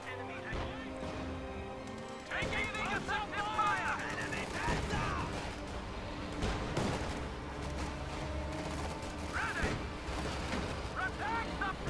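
Heavy gunfire from paratroopers in a barn in the Company of Heroes 2 strategy game rattles in dense, continuous volleys with scattered sharper shots, fairly faint beneath a commentator talking throughout.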